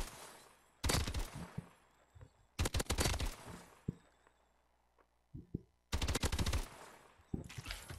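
Hipfire bursts from a gun in Call of Duty: Advanced Warfare, in three loud, rapid volleys, each roughly a second long, separated by quieter gaps with scattered single shots and faint game background.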